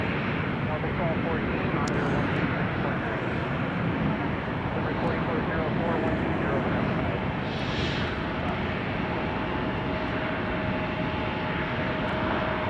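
An Air Wisconsin Mitsubishi CRJ regional jet at Chicago O'Hare gives a steady, broad engine roar that holds at a constant level throughout, with talk in the background.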